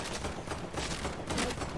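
Video game gunfire cracks out in rapid overlapping bursts, loud and close, several shots packed into a short busy stretch with no clear pauses.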